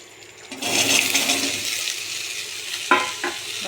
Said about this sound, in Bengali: হালকা একটু নেড়ে চেড়ে ভেজে নেব